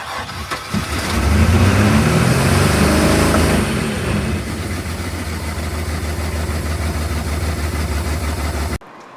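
A boat's 4.3 liter GM Mercruiser inboard engine cranks, catches with a loud roar, then settles into a steady, rumbling idle before cutting off abruptly.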